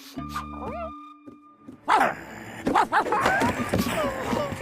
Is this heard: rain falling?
no